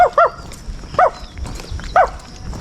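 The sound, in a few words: dog barking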